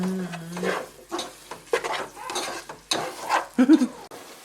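Chopped onions fry in a pan for butter chicken, a spatula scraping and stirring in uneven strokes over a low background sizzle, with a few clattering knocks near the end.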